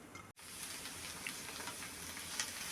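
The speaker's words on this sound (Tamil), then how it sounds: "பாருங்கள், இது நல்லா வதங்குது. அந்த நெய்லேயே நல்லா வதக்கி எடுக்கணும்." Watermelon rind sautéing in ghee gives a steady, soft sizzle with faint crackles throughout, broken by one brief dropout near the start; no voices.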